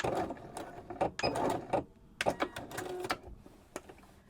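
A sewing machine stitching bias binding in the round, running in short bursts of rapid mechanical whirring separated by pauses, fairly quiet and close, with no talking.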